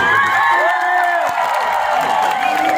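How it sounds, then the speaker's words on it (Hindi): A crowd at a concert cheers loudly, with raised voices and whoops over a dense, continuous roar and only light clapping showing through. "A huge round of applause, everyone."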